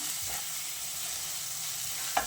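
Black pepper and chili sauce stirred together in a hot pan, a continuous close sizzle and scraping with one small clink near the end, no voices.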